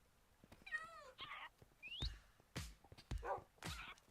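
Several Minecraft cat meows in a game world, short harmonic mews spaced across a few seconds alongside other brief game sounds, moderately loud with no talk.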